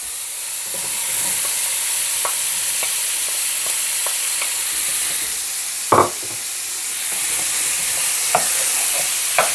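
Vegetables and meat stir-fry in a pan for jajangmyeon, a steady loud sizzle and hiss with occasional scraping clicks of a utensil stirring.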